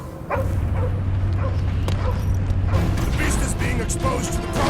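In the Guardians of the Galaxy video game, a dog barks and yips over a dense, steady backdrop of mechanical game action and rumble, with faint voice-like sounds mixed in.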